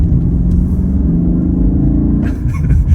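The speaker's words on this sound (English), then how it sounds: "I do really, really like the V8 in this car" V8 engine of a Lexus IS500 F Sport running in a steady, loud low rumble that holds throughout, with a slight rise in revs near the end.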